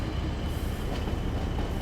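A Class 40 diesel locomotive in Train Sim World 6, running on the West Coast Main Line on a foggy stock move from Kingmoor to Carlisle, gives a loud, dense, continuous rumble and roar with a faint high whine on top, steady throughout.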